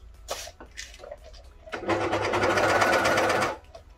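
A Juki MCS-1800 coverstitch machine sews through fabric in one steady, close motor run of about a second and a half, preceded by a few light clicks from hand-turning the wheel.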